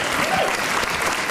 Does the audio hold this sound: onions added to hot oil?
no